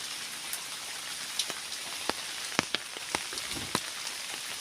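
Steady rain falls outdoors in a village, a soft even hiss with scattered sharper drip impacts, fairly quiet, with no voices.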